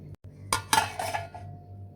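A lid set onto a pot of black-eyed peas left to soak, giving a couple of close metallic clanks and a brief ringing clink that fades, quiet overall with no talking.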